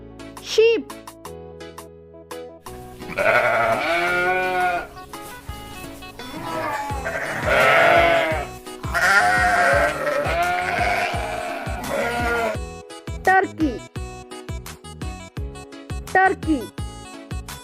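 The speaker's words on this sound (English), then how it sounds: "sheep," Sheep bleating loudly and repeatedly, several long wavering calls close up, set against a light backing tune with short pauses between calls.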